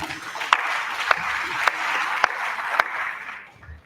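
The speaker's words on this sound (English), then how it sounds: "A round of applause for her." Round of applause at a crop science conference and general meeting, a sustained hall of clapping with a few sharp nearby claps standing out at regular intervals, tapering off at the end.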